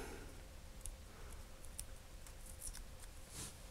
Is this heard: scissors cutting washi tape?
yes